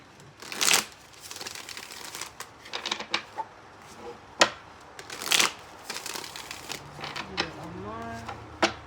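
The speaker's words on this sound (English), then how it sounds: "I just needed to get a good shuffle on them" A deck of tarot cards is shuffled by hand in repeated crisp riffling bursts, close and fairly loud, with soft handling sounds and short pauses between.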